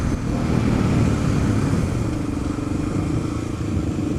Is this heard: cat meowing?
no